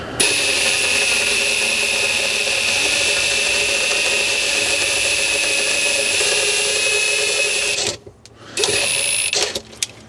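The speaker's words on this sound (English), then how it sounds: "Then it's just a matter of holding your wrench and running the drill." A power drill runs continuously at high speed, whining steadily as it compresses a GX 470 off-grid floor system assembly, then stops abruptly near the end with a brief restart.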